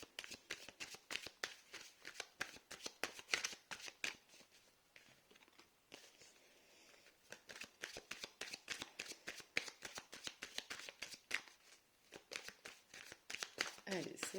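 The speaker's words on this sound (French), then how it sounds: "Je fais tomber les cartes, donc ça peut prendre des fois un peu de temps." Tarot cards are shuffled by hand in rapid, rhythmic clusters of soft slaps and riffles, with a few pauses, heard close and fairly quiet while someone talks throughout.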